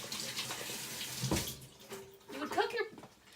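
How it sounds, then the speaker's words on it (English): Tap water runs into a kitchen sink as hands are washed during stovetop cooking of stewed potatoes, a steady splashing wash of moderate loudness with a brief louder gush and a voice speaking over it. "let me wash my hands."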